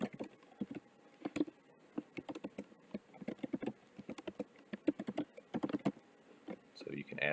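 Typing on a computer keyboard in quick, irregular bursts of crisp key clicks with short pauses, close and fairly quiet, while someone talks briefly at the end.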